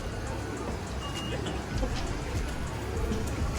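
Rain falls steadily as a continuous soft hiss with scattered drops on a surface, faint background traffic beneath it.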